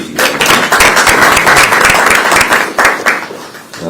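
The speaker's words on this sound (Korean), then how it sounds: "박수 한번 해주시기 바랍니다" Loud, dense audience applause at a Korean political party gathering, a steady wash of many hands clapping that holds for several seconds, then eases slightly at the end.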